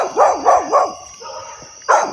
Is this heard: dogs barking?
yes